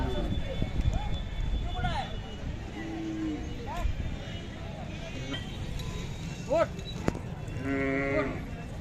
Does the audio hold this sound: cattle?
yes